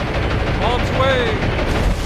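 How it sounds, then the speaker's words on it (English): Bombs dropped by a diving aircraft strike a warship in the War On The Sea naval combat game, giving a loud, continuous roaring rumble of blasts with faint whistling tones drifting through it. "Massive hits. Huge explosions."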